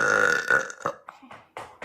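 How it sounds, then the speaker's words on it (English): A young woman lets out a long, loud, close burp, followed by a few short, softer vocal bursts. "Guys, I'm about to burp."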